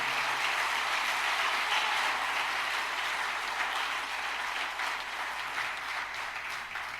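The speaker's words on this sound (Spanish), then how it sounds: "Dele fuerte palmas al Señor" A church congregation applauding during a sermon, a dense, continuous wash of clapping from many hands, steady and moderately loud throughout with no talking over it.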